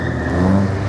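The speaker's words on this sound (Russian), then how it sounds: "И выезжают разные машины в центре города." Cars driving through a city-centre street during an auto slalom competition, a steady engine hum and rising rev with a low rumble, continuous and fairly loud across the short stretch.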